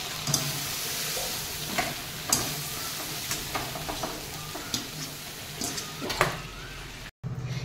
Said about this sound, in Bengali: এই আমার চিংড়ি মাছগুলো ভাজা হয়ে গেছে, বেশি ভাজবো না, অল্প।